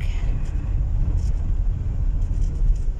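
Cars driving through city streets under an overcast sky hours before a typhoon's landfall, a steady low rumble of passing vehicles with no distinct horns, continuous and moderately close.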